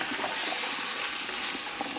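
Chopped vegetables and garlic sizzle in a soup pot for minestrone, a close, steady hiss and crackle lasting throughout without speech.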